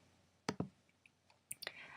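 Computer mouse clicking: a pair of crisp clicks, then a few more sharp, close clicks after a short pause, in a quiet room.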